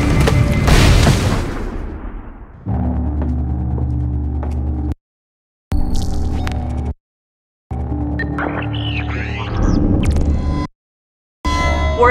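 A heavy grenade explosion in Splinter Cell Blacklist, one loud close boom with crackling debris that decays over a few seconds, followed by rumbling game sound broken by abrupt silent gaps.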